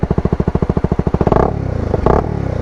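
A modified Honda CBR 250 motorcycle engine fires up close by, starting with a rapid even pulsing idle that climbs into two sharp revving bursts, the second one brief.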